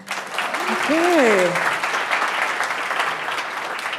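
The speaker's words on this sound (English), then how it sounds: "give me a clap if you're ready to play" A keynote audience at a London partnership event breaks into a burst of applause that carries through the moment, with a speaker's voice heard briefly over it.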